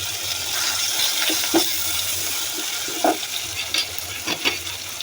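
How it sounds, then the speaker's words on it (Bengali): Onions fry in a pan with a steady sizzling hiss, broken by a few stirring scrapes and bumps toward the end, moderately loud and close with no voices. "পেঁয়াজ ভেজে নিচ্ছি"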